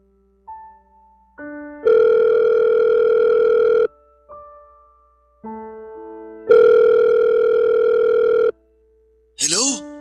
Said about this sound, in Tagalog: sagutin mo na yung tawag ko